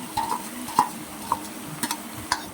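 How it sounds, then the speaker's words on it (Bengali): Chopped banana flower is stirred in a wok with a little water, a ladle scraping and tapping the metal in several quick, irregular clinks over a faint, soft sizzle. "এবার মোচাটাকে ভালো করে নাড়তে হবে"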